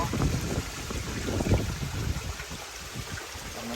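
Waterfall feeding a backyard koi pond, a continuous splashing, gurgling flow heard close, mixed with wind rumble on the microphone.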